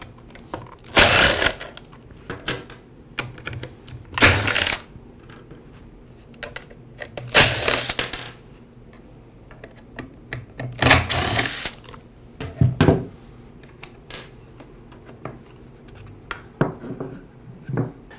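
Taking off the rear cover of a Ryobi string trimmer brings a series of short, close bursts of cordless screwdriver whirring, spaced a few seconds apart with quiet gaps and small plastic clicks in between.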